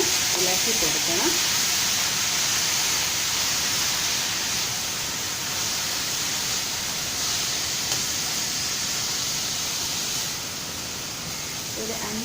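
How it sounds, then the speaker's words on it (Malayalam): Grated carrot sizzling and frying in a pan while being stirred for carrot halwa, a steady close hiss with faint stirring scrapes, running continuously with no speech. "ഇനി നമുക്കിത് നല്ലവണ്ണം ഒന്ന് ഇളക്കി കൊടുക്കണം"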